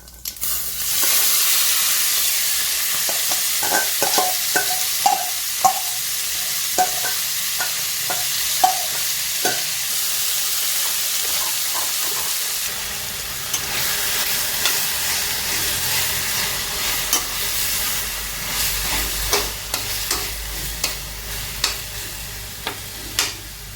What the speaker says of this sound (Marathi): आपण आता हे जे मिरची आहे ना मसाला लावून घेतलेली आहे ती घालत आहोत